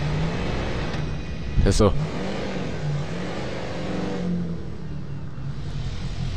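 A $32,000 car in the video game GTA 5 revs its engine in a steady mid-pitched drone that rises and falls, with a brief sharp burst partway through and someone speaking over it.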